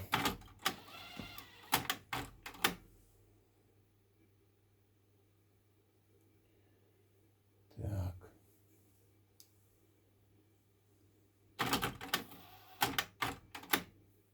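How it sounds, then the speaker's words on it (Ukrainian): Sony 805 cassette tape deck running its calibration routine, heard as close, sharp mechanical clicks and clunks in short bursts at the start and end, with a single transport whir in the middle and quiet hum between. "на декі від Соньки 805 будемо калібрувати. Так, натискаю калібровку і відпускає паузу."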